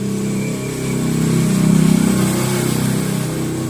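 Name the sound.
motorbike passing by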